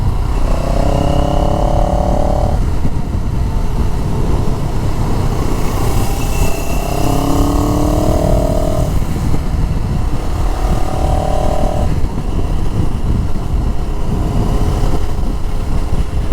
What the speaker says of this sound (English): The engine seems eager though, you know, when I start twisting it up into the higher RPMs.